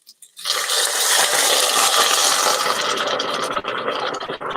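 Chicken broth is poured into a hot pot for roasted beet soup, setting off a loud, steady sizzle and hiss that starts abruptly after a short silence and continues unbroken, close and with no talking.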